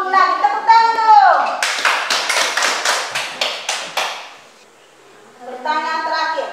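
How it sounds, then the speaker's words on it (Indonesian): A class of children claps together in a quick, even rhythm of about ten sharp beats, loud and close. Young voices speak just before and after the clapping. "Tepuk tangan dulu"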